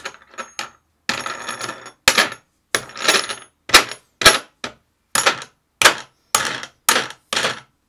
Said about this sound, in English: So I shall put the book into my press.